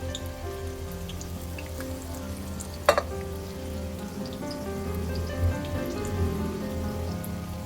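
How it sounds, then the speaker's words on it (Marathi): Ingredients frying in hot oil for Hyderabadi dum biryani until golden brown, a steady close sizzle with a sharp clink near the start and occasional stirring. "फक्त गोल्डन ब्राऊन करायचं ना, जास्त नको करू त्याला. हा, त्याला हलवत राहायचं मध्ये मध्ये."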